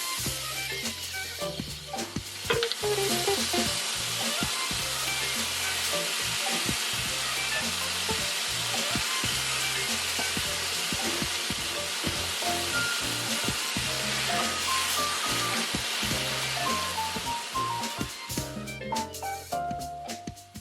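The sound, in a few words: beef galbi short ribs frying on a pan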